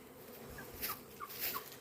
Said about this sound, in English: We still got a couple of little bees hanging out here. But look, they're swarming the door.